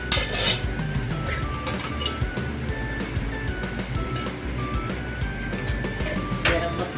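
A potato and soybean curry is stirred in a pan, the spoon clinking and scraping against the metal in a steady, busy rhythm close by.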